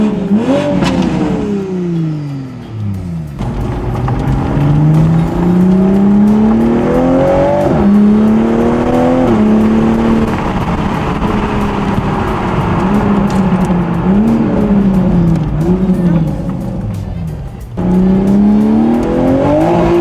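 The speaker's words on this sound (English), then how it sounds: "Give you guys a couple revs inside the car." A Toyota Supra A91 engine revving, heard from inside the car: loud repeated revs rising and falling in pitch, with sweeping climbs and drops and a steady rumbling idle between them.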